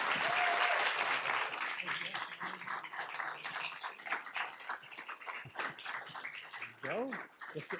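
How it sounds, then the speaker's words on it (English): Audience applause at a school board meeting honoring an elementary school staff member, a dense wash of clapping that swells and holds across the room, with cheering voices and talk mixed in and a whistle near the end. "Let's have a round of applause for Jeff."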